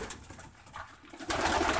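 Racing pigeons coo softly inside a coop in low, rounded bursts, then a louder rustling wash of noise rises near the end of the short stretch.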